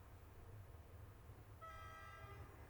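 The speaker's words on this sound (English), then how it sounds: "Let us board the train!" Train arriving in the video game OMORI: a low rumbling hum runs throughout, and a bright, sustained train horn enters partway through and holds to the end.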